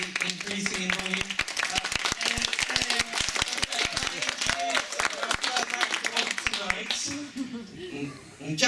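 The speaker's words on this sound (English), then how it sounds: "So perhaps after 3, just begin to clap." Audience clapping at a live comedy show in a venue called the Dungeon, dense and sustained, with laughter and chatter mixed in, thinning briefly near the end before picking up again.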